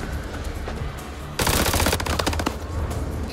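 Rapid automatic gunfire in the video game House of Ashes erupts suddenly midway, loud and dense bursts over a low rumbling game soundscape, with no talking.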